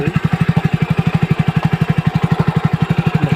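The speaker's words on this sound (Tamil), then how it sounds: "செயின் அப்படியே கலந்து விழுகிற மாதிரியே ஒரு சவுண்டு. டம்ம டம்ம டம்ம டம்முன்னு ஒரு சவுண்டு." A Hero Splendor BS6 motorcycle with a loose chain knocks in a fast, even, close-up rhythm, a steady run of thudding rattles over the running engine with no talk.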